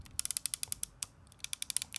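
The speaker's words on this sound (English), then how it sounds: "Hear the clicking." Old Pentax 6x7 medium-format film camera mechanism clicking and ratcheting in a quick series of sharp, close mechanical clicks, a brief pause mid-way, then another run of clicks, with no talking.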